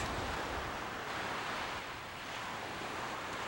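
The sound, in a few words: ocean surf waves breaking on the beach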